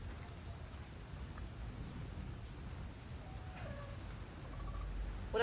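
Stage-play thunderstorm effect: a steady low rumble of thunder with rain noise runs throughout, swelling louder toward the end, with no talking.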